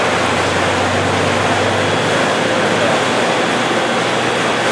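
Pool equipment at an aquatic center: water pours steadily out of a white 6-inch pipe, a loud constant rushing wash with a low hum underneath.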